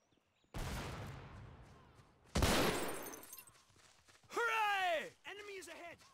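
Shotgun blasts in the real-time strategy game Men of War: Assault Squad: two loud, close booming shots a couple of seconds apart with long rumbling tails, followed by a shouted in-game voice.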